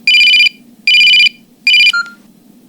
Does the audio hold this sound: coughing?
no